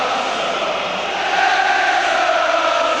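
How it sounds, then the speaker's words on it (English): A big football stadium crowd at an England versus Poland World Cup qualifier roars and chants, a dense, steady wall of voices that swells slightly partway through. "the crowd are in good heart and good voice"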